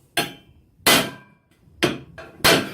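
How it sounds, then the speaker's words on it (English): Four sharp, ringing metallic strikes from a hammer driving a center punch into metal, spaced unevenly about a second apart and heard close up with no talk. "Then all I'm doing is taking a center punch,"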